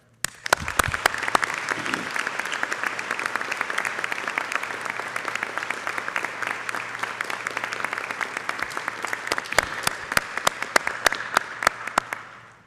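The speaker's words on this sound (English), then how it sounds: "I'd like everybody to join me in an applause for Marie and the rest of our fantastic staff" Sustained applause from attendees at a pilots' union board of directors meeting, many hands clapping steadily for about twelve seconds, with a few sharper claps standing out before it tapers off.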